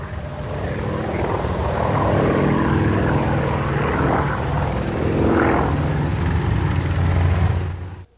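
A composite aerobatic competition sport plane flying at the 1989 Paris air show, its propeller engine droning loudly and continuously, rising and swelling in pitch through maneuvers before cutting off abruptly at the end.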